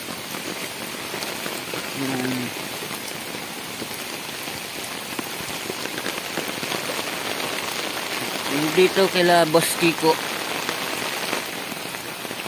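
Steady, heavy rain pours down with a constant dense hiss, while a person speaks briefly twice over the downpour.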